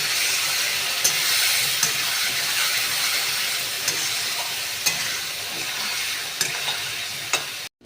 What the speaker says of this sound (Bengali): দিয়ে বন্ধুরা আমি আবারও খুব ভালো করে কষিয়ে নেব।